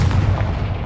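A Confringo fire spell explodes in Hogwarts Legacy on PS5, a single dense, booming blast with a heavy low rumble that fills the whole second up close.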